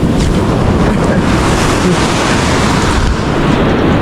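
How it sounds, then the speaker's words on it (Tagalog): Strong ocean waves at a beach in Baler, a loud continuous roar of surf mixed with heavy wind buffeting the microphone, no voices. "grabe lakas ang alon"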